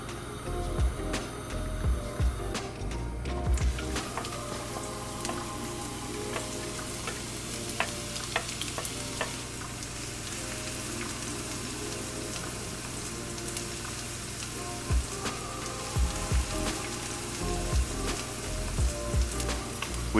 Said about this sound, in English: In a hot pan, we add some olive oil, followed by the onions and the garlic.